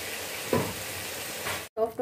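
Chicken and tomatoes cooking in a karahi as it is covered: a steady sizzle with a brief clatter midway, a short silence, then the frying resumes.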